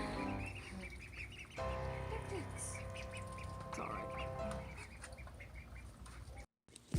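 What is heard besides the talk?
ducks quacking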